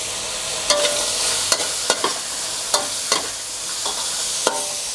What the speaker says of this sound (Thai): ผัดให้หอมเลยครับ ทุกอย่างหอมดีแล้ว ใส่หมูทอดกรอบของเราลงไปเลย